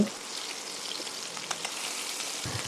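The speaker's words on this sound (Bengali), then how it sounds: "মাছগুলো এক পিঠ ভাজা হয়ে গেলে আমি একে একে উল্টে নিয়ে অপর পিঠটাও ভালো করে ভেজে নিচ্ছি" Small puti fish sizzle in hot oil in a pan as they are turned to fry the other side, a soft, even crackle heard close and alone, with a few faint clicks.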